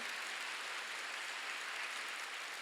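A church congregation applauds during a Sunday worship service, a steady, dense wash of clapping that fills the whole stretch evenly at moderate distance, with no voices standing out.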